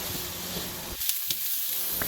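Vegetable slices searing in a hot pan, a steady broadband sizzle with a few sharp crackles and a brief dip as food shifts, close and without talk.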